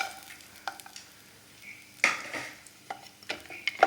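Cashews frying in a little ghee in a pan, a faint sizzle with scattered metallic scrapes and taps as they are stirred, sharper clinks at intervals.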